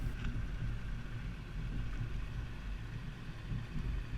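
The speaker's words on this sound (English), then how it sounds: "Now we're at the alternating speed bumps." A 2016 Mazda CX-5 carrying a Yakima FullBack 2 bike rack rolls over alternating speed bumps, producing a steady, loud low rumble of road and body noise with no distinct separate thumps and no talking.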